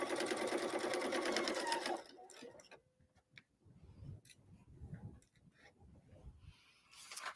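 A sewing machine stitches a festive holiday pillow in a loud, rapid burst for about two seconds, then stops, leaving quiet handling noises and soft talk before a short final run of stitching.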